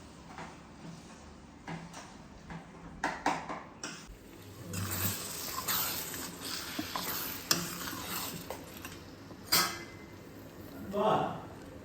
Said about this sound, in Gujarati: હવે આપણે જે આ ચાર રીંગણા શેકાતા એનો ઓળો છે એ મિક્સ કરી દઈશું